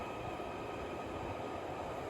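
Train at Moorfields underground station in Liverpool, a steady low rumble and roar of rolling stock filling the whole stretch at moderate level, with no voices.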